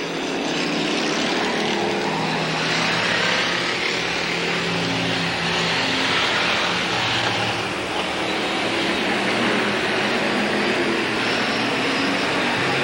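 Sportsman race cars at Capital Speedway in 1985 roaring past in a sustained, loud, dense engine drone that swells slightly without a break, no voices over it.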